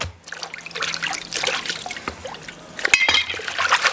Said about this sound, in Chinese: 这野葱洗洗干净